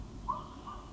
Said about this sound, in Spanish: No sé si se escuchan los pájaros cantar